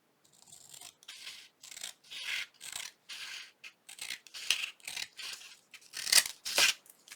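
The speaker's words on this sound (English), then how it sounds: "Probably could use my bigger scissors" Big scissors trim through paper in a string of short, crisp snipping and rasping cuts with brief pauses between them, close and fairly quiet.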